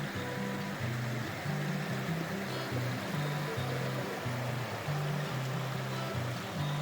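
A clear, cold mountain stream runs beside Buckeye Hot Springs, tucked in the mountains of central California. It gives a steady, close, full rushing wash of water that never lets up, with no voices over it.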